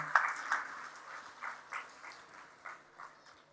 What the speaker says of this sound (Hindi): एक बार आप अपने लिए तालियाँ बजा दें